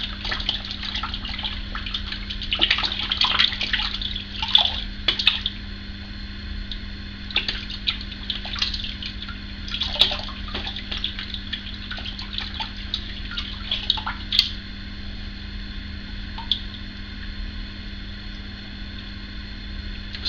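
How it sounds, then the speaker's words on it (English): A shaving brush is swished around in water in a bathroom sink, giving intermittent splashy sloshing and trickling over a steady background hum, close and without talk. "let me give you a brush a swish around the sink, try and get most of the soap out of it"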